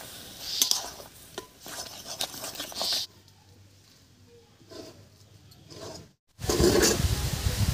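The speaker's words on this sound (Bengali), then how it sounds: "চালের গুঁড়ো দিয়ে খুব ভালো করে মিশিয়ে নিয়েছি" Rice flour being stirred into boiling water to make dough for sesame-filled pitha, with a spoon scraping and clattering in a pot in bursts, a quieter pause between them.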